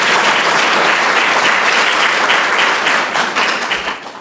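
An audience at a Reykjavík forum event applauds, with steady, dense clapping close by that holds for several seconds before thinning out and fading.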